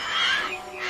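A short, loud burst of bird squawking from a flock of birds, shrill calls crowding together close by with no talk over them.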